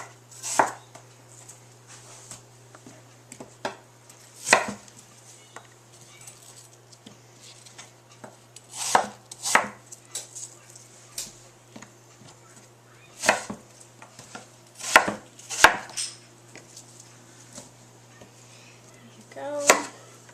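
Knife slicing apples thin for a classic apple pie, with sharp chopping strikes on a cutting board coming in scattered bursts, some louder and closer, over a steady low hum.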